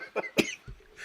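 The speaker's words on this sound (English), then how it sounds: "the worst time to cough" A single sharp cough bursts out close and fairly loud during a casual talk show, flanked by a short throat noise and a faint breath, with no speech over it.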